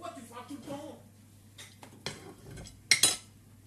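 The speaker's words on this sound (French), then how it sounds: "Tu as fini la vaisselle, chérie?" Dishes and cutlery clink during washing up, a few scattered clatters and a sharp pair of metallic clinks near the end, heard under a voice speaking French.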